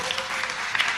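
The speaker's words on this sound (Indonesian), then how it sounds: "Ketahuan yang tepuk tangan kurang beriman." An audience at a stand-up comedy show claps in a brief patter of applause, moderately loud and dense for about a second.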